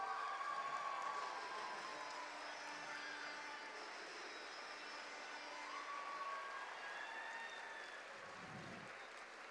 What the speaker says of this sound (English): I'm going to ask all of our participants to please give a round of applause.